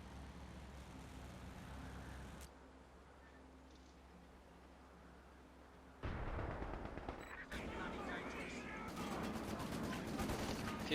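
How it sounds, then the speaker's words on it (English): Battle gunfire in the real-time strategy game Company of Heroes 2, with dense bursts of machine-gun and small-arms fire that swell louder halfway through over a steady din of combat. "A few quick shots there."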